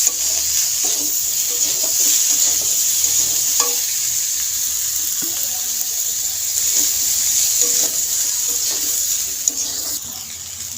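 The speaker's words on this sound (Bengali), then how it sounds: "এবার আমি এগুলোকে ভালো করে ভেজে নেব" Cauliflower florets fry with turmeric in a pan for a village-style fish curry with rohu and potato, giving a steady close sizzle with intermittent stirring scrapes and clinks throughout, no voices.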